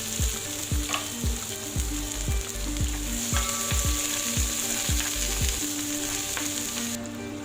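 Small onions frying in oil with mustard seeds and fenugreek give a steady close sizzle, with repeated rhythmic scraping thumps from stirring in the pan and no talk.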